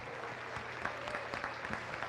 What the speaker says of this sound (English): So give these exhibitors a nice round of applause.